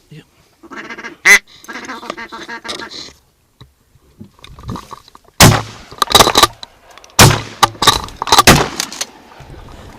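Sharp shotgun blasts ring out during a duck hunt, loud and close, with quacking ducks and people talking and calling around them.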